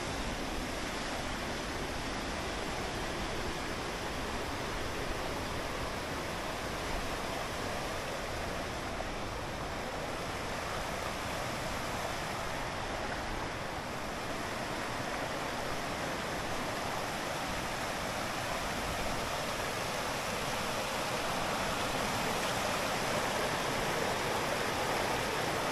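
A river runs beside a mountain trail through conifer forest in Romania, giving a steady, dense rushing wash of water that holds unchanged for about 25 seconds without any talking.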